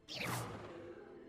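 An Incendio fire spell is cast in the video game Hogwarts Legacy on PS5, making a single rushing whoosh that swells quickly and then fades into a lingering, fiery hiss. No one speaks.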